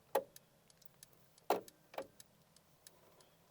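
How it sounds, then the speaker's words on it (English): Three sharp, loud clicks from the wiper and turn signal stalk of a Mercedes EQB 350, resonating through the steering column inside the cabin, spaced irregularly with quiet between them. "One of them is the wiper control / turn signal stalk. When you engage this, it's actually incredibly loud."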